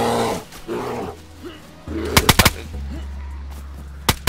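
Several sharp gunshots crack close by in DayZ as a player shoots a zombie, a quick burst of four followed by a pause and then a few more, with voices talking at the start.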